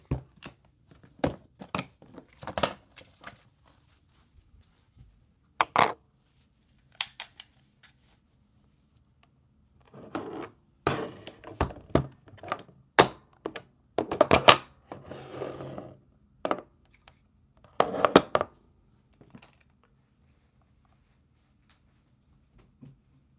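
Guns being shifted around and set down indoors: a scattered series of sharp clacks, knocks and rattling handling noises, some close and fairly loud, with quiet gaps between bursts and no talking.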